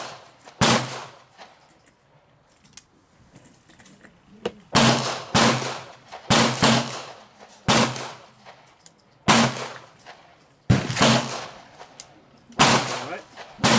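Several .38 Special short-load revolver rounds fire one after another outdoors: loud, sharp close-range cracks with short decays, spaced a second or two apart, with quieter movement and faint voices in the gaps.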